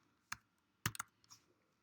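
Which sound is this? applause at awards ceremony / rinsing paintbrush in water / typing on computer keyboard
typing on computer keyboard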